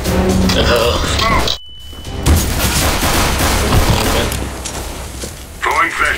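Rapid gunfire bursts from Counter-Strike: Global Offensive on the Dust 2 map in casual mode, loud and dense with brief gaps, while players talk over the shooting.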